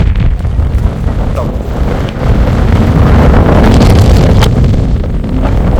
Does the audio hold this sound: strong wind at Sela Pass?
yes